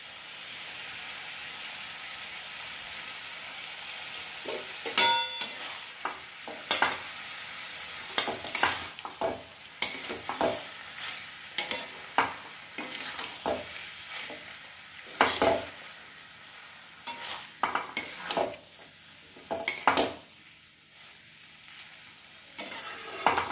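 Food sizzles steadily in a pan while a spatula scrapes and stirs in irregular bursts, close and fairly quiet; fried lentil dumplings and grated coconut are being added.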